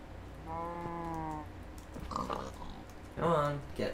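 Pigs in the video game Minecraft give a harmonic grunting oink near the start, then a second squealing grunt near the end, with some talking partly over them.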